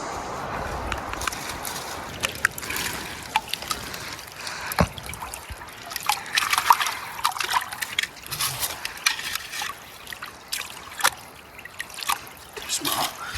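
Creek water trickles and drips in the woods, a faint, continuous patter of small splashes and bubbling that lasts throughout.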